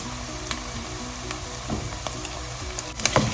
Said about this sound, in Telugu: ఒక 2 టేబుల్ స్పూన్స్ అల్లం వెల్లుల్లి పేస్ట్ వేసుకొని బాగా వేయించుకోవాలి.